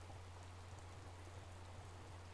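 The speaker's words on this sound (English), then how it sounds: "It's raining harder." Rain falls steadily in Breath of the Wild, a faint constant hiss of drops with a low hum beneath and no talking.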